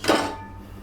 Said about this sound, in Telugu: ఇప్పుడు నేను ఒక గిన్నె తీసుకుని